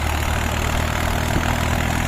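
A Mahindra Yuvo 405 DI 4WD three-cylinder tractor engine runs under overload testing, a loud, steady low-pitched drone throughout the brief stretch, with no voices.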